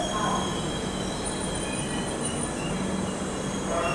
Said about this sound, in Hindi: ट्रेन निकल चुकी है सूरत जंक्शन रेलवे स्टेशन से